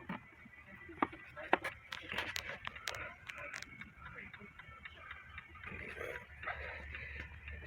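A Seth Thomas clock on sale at an antique mall ticks with faint, sharp clicks amid steady room noise, under someone talking nearby.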